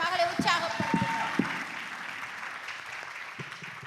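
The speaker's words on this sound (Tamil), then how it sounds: "அங்கே மீண்டும் ஒரு கரகோஷம் தாத்தி மகளை உற்சாகப்படுத்துங்கள்" Applause from a church congregation at a Sunday service: steady, moderately loud clapping that carries through the whole stretch, with a few sharper claps early on.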